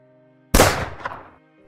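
A single gunshot sound effect in a narrated crime story cracks out sharply after a moment of near silence, then decays in a short rumbling echo, loud and alone with no talk over it.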